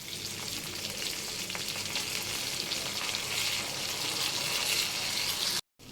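Hilsa fish fry in hot oil in a pan, giving a dense, steady close-up sizzle with no talk, cut off abruptly just before the end.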